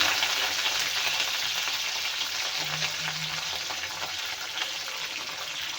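Curry leaves and garlic fry in hot oil for a pickle, a dense, steady crackling sizzle heard up close and fairly loud from start to finish, with no voices.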